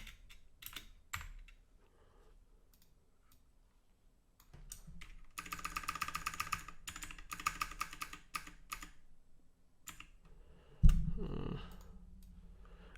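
Code is typed on a computer keyboard in scattered clicks that swell into a dense, rapid run of keystrokes, then thin out again, followed by a louder bump and rustle near the end.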